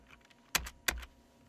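Typing on a computer keyboard: two quiet, crisp keystroke clicks close by, a fraction of a second apart, in an otherwise calm room.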